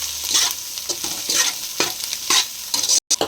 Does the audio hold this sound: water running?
no